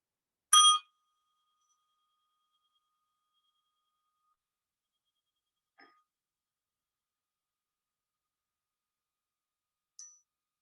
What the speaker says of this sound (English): I'm just going to ring this little Tibetan bell